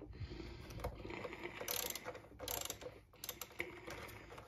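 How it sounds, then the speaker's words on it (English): A 7/16 socket wrench ratchets nuts off a motor on a tanning turbine loaded with tanning solution, with faint close clicking pawl sounds in short bursts over a low background hum. "Now, with a 7/16 socket, we'll take these bolts out"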